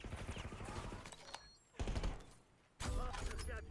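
Bursts of rapid automatic gunfire from a Call of Duty hardpoint match, loud and close, arriving in clustered volleys separated by brief lulls, with people talking and reacting underneath.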